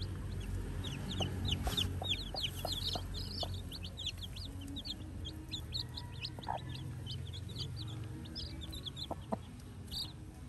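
Chickens, including brooding hens and a crossbred bird, cluck softly in a farmyard with repeated short calls and chirps scattered throughout, fairly quiet and close.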